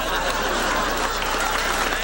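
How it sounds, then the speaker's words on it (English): A theater audience applauds the Golden Palace players after their living theater production of Come Back, Little Sheba, a dense, steady wash of clapping that fills the whole moment, with a little crowd noise mixed in. "let's have a nice round of applause for our very own Golden Palace players"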